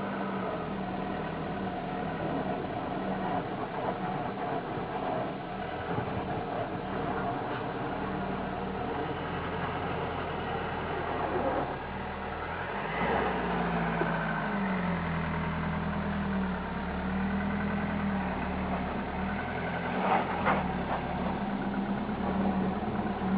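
A car engine revs as its wheels spin on snow, a steady mid-pitched drone that swells and strains twice, near and moderately loud, with no talking.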